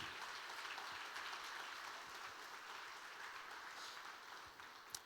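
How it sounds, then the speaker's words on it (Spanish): A church congregation claps for first-time visitors, a continuous, fairly faint crowd applause with an even texture that holds for several seconds, no speech over it. "Vamos a darles un aplauso."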